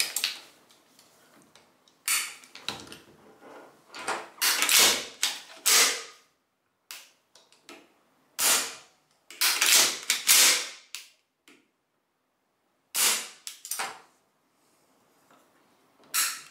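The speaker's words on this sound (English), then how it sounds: "Test the trigger reset." Trigger reset checks on a SIG SG 510 (Sturmgewehr 57) rifle during detail reassembly produce close metallic clicks, snaps and handling rattles in short irregular clusters, separated by silent pauses, with no talking.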